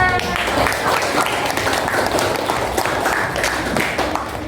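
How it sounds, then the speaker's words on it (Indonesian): Children in a classroom clapping together in steady applause, close and moderately loud, with overlapping young voices talking and calling out above it throughout. "Tepuk tangan untuk kita."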